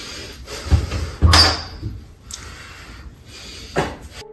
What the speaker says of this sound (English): there's a loud bang, and the room door suddenly opens.